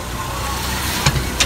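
A car engine hums steadily at low speed as the vehicle pulls in, a close, even drone broken by a couple of short knocks near the end.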